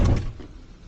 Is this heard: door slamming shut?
yes